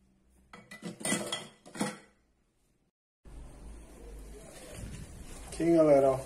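Ground meat, egg and spices mixed in a bowl for meatballs: quick clinking, knocking strokes of a utensil against the dish, a short pause, then a softer, steady mixing rustle as a voice begins to speak over it.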